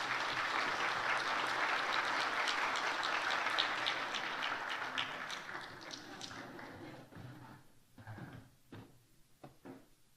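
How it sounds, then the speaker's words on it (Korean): A church congregation gives another round of celebratory applause during a Sunday service, dense clapping that gradually thins into a few scattered, distinct claps near the end. "한 번 더 박수로 축하하겠습니다"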